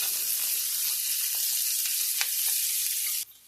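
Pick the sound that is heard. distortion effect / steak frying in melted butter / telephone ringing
steak frying in melted butter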